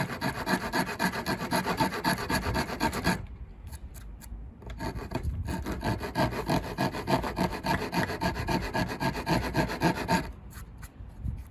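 A very rough rasp files wood on the body of a handmade Triquetra electric guitar. Loud, close, rhythmic scraping strokes repeat with two short pauses and play alone, with no voices.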